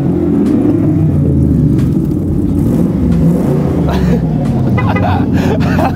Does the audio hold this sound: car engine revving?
yes